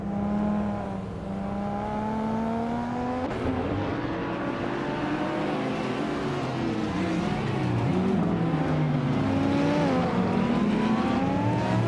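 Race cars in a racing video game, including a 1992 Ford Escort RS Cosworth, roar steadily past one another with engine pitch rising and falling through gear changes and overtakes, loud and continuous with no talk.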